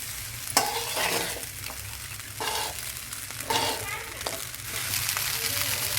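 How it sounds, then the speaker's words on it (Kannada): A spoon scrapes and stirs chicken fried rice in a pan, with soft sizzling beneath a few brisk clinking strokes against the metal, close and fairly quiet, with faint voices in the background. "ಹೀಗೆ ಸೈಡಿಂದ ಚಮಚನ ಹಾಕಿ ಮಿಕ್ಸ್ ಮಾಡ್ತೀವಿ"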